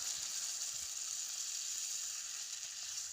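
Constant bright sizzling hiss from water poured onto fried spices in hot oil, fairly quiet and steady, fading slightly toward the end.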